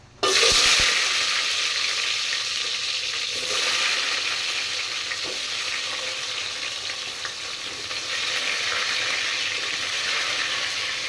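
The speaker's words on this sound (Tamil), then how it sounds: "இது வெந்தயம் வந்து நல்லா வந்துட்டு பொரிஞ்சு வருது" Fenugreek seeds splutter in hot oil with a loud, dense, continuous sizzle and fine crackling that holds steady from start to finish, with no talking.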